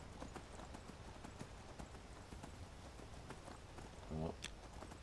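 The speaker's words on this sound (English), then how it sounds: "Watch how much stamina this horse has." Horse hooves clip-clop in a steady walking rhythm while riding in a video game, close and moderately loud, with a brief louder burst near the end.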